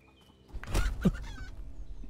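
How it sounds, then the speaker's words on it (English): Chicken in the survival video game Polylithic gives a short burst of clucking at moderate distance over quiet ambient background, with no talking. "I think I just heard a chicken."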